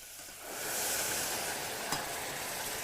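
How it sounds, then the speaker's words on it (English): Stock poured into a hot pan to deglaze it for kale and pine nut wonton soup, giving a steady hiss and sizzle that swells in within half a second and holds evenly, fairly quiet, with no talking. "we're going to sort of deglaze that pan with my stock"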